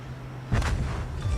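Heavy naval explosions from bombs and torpedoes striking a warship in World of Warships, a low booming burst that swells suddenly after a quiet hum and rumbles on loudly to the end.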